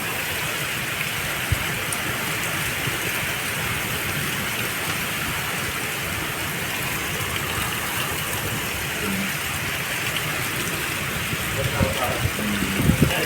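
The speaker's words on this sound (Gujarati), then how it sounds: "વાવડા સાથે વરસાદ આવ્યો" Rain driven by strong gusting wind in a mini windstorm, a dense steady roar of downpour and wind close by, with a person speaking over it at times.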